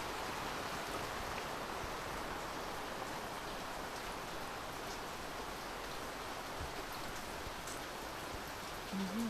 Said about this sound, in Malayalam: മഴയ്ക്കങ്ങ് പെയ്താൽ പോരാ, കൂടെ കൂട്ടുന്ന കാറ്റിനെയും കൂടെ കൂട്ടും.